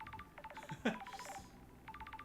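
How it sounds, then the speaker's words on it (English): Electronic phone ringing from an incoming call in the video game Paradise Killer: a repeated burst of short, clean synthetic beeps, a brief louder blip in the middle, then the beeping resumes. "How do I pick up a call?"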